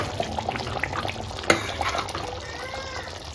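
Dum aloo gravy stirred in a pot after simmering, with soft liquid sloshing and scraping plus a single sharp clink of the spoon against the pot, close and fairly quiet.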